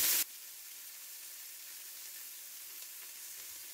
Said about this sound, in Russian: И обжариваем лапшу до золотистой корочки.